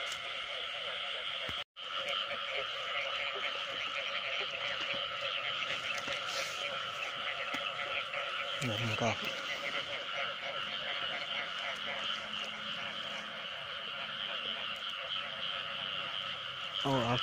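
A dense chorus of frogs croaks continuously in a rice field at night, loud and close, with rapid pulsing calls overlapping throughout and a voice speaking briefly over them.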